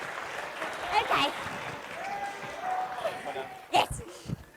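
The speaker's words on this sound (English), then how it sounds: "Give him a round of applause" Audience applause breaks out in bursts at a school fall play, mixed with voices talking over it and a few louder claps and stage noises.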